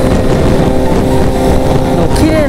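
A classic Japanese motorcycle engine rumbles steadily at close range, a loud, even, throbbing drone with some wind buffeting.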